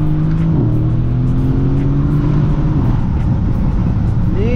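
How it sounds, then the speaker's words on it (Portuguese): A powerful car engine revs hard and climbs in pitch nearby, its rumbling exhaust loud and continuous throughout. "Acelera, tem que correr. Lindo demais, velho. É uma sinfonia esse carro."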